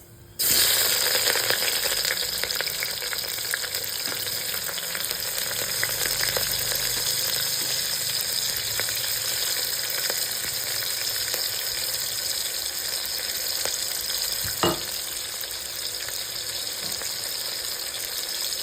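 Chopped onion frying in a pan for chana daal, a steady loud sizzle with a bright hiss that holds almost unchanged throughout, plus a few faint clinks and one sharp knock near the end, with no talking.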